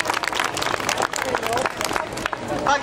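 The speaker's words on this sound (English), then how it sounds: "give the ladies a big round of applause there" A crowd applauds a group of ladies at an outdoor vintage vehicle show at Mount Stewart, Northern Ireland, with brisk scattered clapping mixed with crowd murmur and some talk running underneath.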